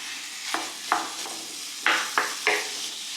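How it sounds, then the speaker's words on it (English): Ground beef browning in a little oil in a skillet, stirred now and then: a soft steady sizzle with several brief scraping bursts of the utensil against the pan, nearby and alone. "I'm going to add a pound of ground beef to this."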